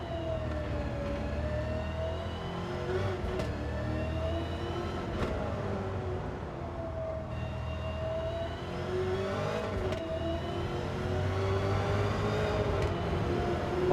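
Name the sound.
Chevrolet Corvette C7 engine in the video game Gran Turismo 7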